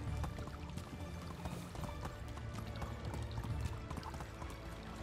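Horse hooves clip-clop steadily through the Medieval Dynasty game world, a continuous rhythmic trot over dense ambient game sound with no talking.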